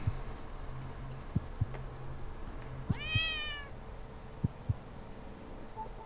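A single clear cat meow from the video game The Cat Lady, heard over a quiet ticking clock that keeps a steady rhythm in the background.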